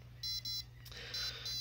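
A radiation dosimeter beeps as each particle is detected, giving short high electronic chirps at irregular intervals, about four in quick succession over a low steady hum.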